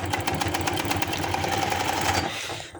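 A sewing machine runs steadily, stitching a pocket onto a pajama front with a fast even whir and rapid needle ticks throughout, slowing and stopping at the very end.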